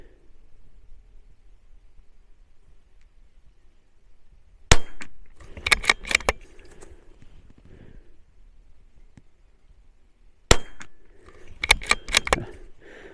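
A rifle fires on a shooting range, with two single sharp loud cracks several seconds apart. Each shot is followed by brief clinks and rattles of handling in an otherwise quiet setting.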